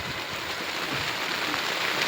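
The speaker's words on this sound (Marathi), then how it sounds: "बघा सुरू झालं बघा हा पाऊस झाला पाऊस सुरून फजिते आमची" Sudden heavy rain pours down outdoors in a steady, dense hiss of large drops striking surfaces, loud and continuous with no talking.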